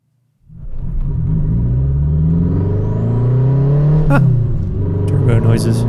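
A Renault R5 Turbo II's mid-engine revs up and holds a steady droning whir with rising turbo noise. Near the end there is a short spike and a hiss-like release, and voices talk over it.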